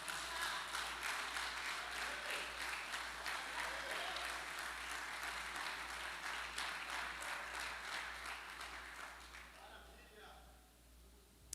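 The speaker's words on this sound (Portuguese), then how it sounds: "Você pode aplaudir Jesus" A church congregation at a family service applauds in a sustained, even wave that gradually thins and fades toward the end, with a voice faintly present near the close.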